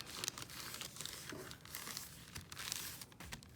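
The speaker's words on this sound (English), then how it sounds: "So once you have your circle, you need to fold it in half." A circle of copy paper is folded in half, giving close, soft crinkling and rustling that runs continuously at low level.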